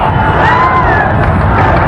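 A boxing crowd at a Manny Pacquiao fight against Torrecampo cheers and roars in a loud, dense wash of voices, steady throughout with whoops rising above the din.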